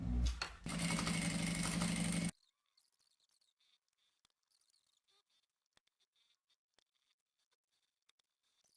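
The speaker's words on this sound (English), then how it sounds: "So we can take this to the machine now and stitch all the way around." A sewing machine stitches around a vinyl cosmetic bag made from sample swatch pieces, a loud, steady motor run lasting about two seconds that stops abruptly, leaving near-silence with faint small clicks.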